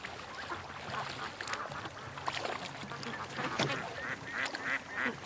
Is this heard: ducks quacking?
yes